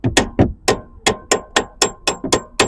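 A hammer taps on the back side of a Ford Explorer transmission to knock it loose: eight or nine sharp metallic strikes in a steady, slightly quickening rhythm, close and loud, with no talking.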